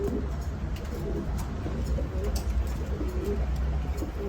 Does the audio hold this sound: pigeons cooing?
yes